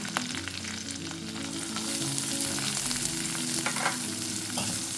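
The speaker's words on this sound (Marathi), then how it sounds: "हे सर्व आपण आता तेलावर परतून घेऊया" Curry leaves and chopped onion sauté in hot oil in a pan for methi dal, a continuous near crackling sizzle with scattered scraping stirs, growing slightly louder partway through.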